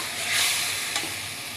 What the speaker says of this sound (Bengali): এখন আমি ডালটা নিয়ে সামান্য কিছু সময় কষিয়ে নেব।